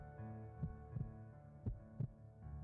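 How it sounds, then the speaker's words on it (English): A heartbeat sound effect thumps in slow paired beats, four low muffled thuds over a faint steady hum, with no voices. "Oh, the heart thumping."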